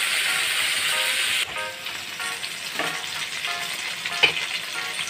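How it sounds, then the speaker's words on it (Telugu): Gongura leaves sizzle steadily in a hot pan, the dense frying hiss broken by soft scraping stirs; the sizzle drops slightly partway through, then continues with occasional clinks of the spoon. "ఈ గోంగూర మొత్తం దగ్గర పడేంత వరకు ఉడికించుకున్నాం. మధ్యలో కలుపుకోండి,"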